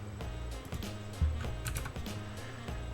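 Quiet typing on a computer keyboard, a run of soft, irregular key clicks close by with no voices.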